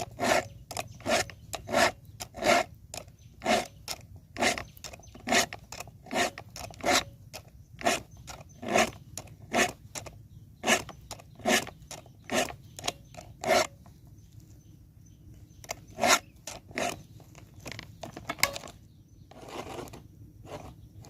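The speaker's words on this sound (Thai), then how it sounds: "แต่ง ฟันเลื่อยบ่อยๆนะครับ แต่งฟันเลื่อย" A file rasps steadily across chainsaw chain teeth in quick, regular strokes, repeated dozens of times with a brief pause midway, close and alone, while cutting down longan trees.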